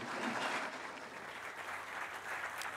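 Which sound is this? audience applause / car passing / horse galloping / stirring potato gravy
audience applause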